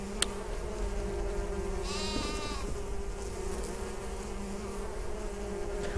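Bees buzz around the player in the Viking video game Niffelheim, a steady insect drone over game ambience, with a brief warbling swell in the middle and a sheep bleating nearby.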